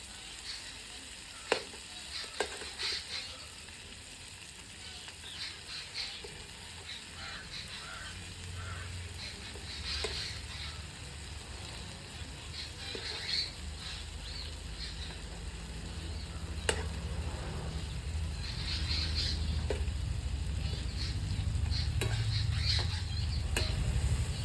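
Chicken curry ingredients fry in a pan with a steady sizzle, broken by scattered spatula scrapes and clicks, growing slightly louder toward the end with no voices.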